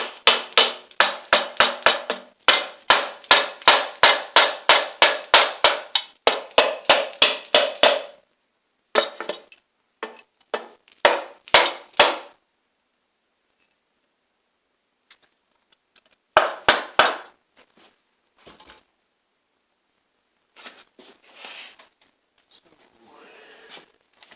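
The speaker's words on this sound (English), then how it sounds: "plastic dead blow hammer." A plastic dead blow hammer strikes in a fast, steady run of sharp blows, then slower scattered hits with pauses in between, while splitting a Stihl 034/036 chainsaw crankcase.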